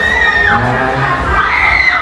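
A crowd at a Muay Thai dance performance contest shrieks loudly and continuously, high-pitched screams layered over a dense, excited din.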